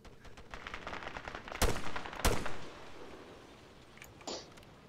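Gunfire crackles through the jungle in the ARMA 3 Vietnam mod: a steady patter of distant rifle shots, broken by two sharp, close cracks and a later fainter shot.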